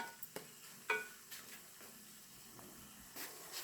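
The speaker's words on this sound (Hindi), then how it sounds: "अब ये इसको हम फ्राई कर लेते हैं।" Soft sizzling in a pan as chicken fries with garlic-ginger paste, occasional stirring clinks and scrapes, a low steady frying hiss underneath.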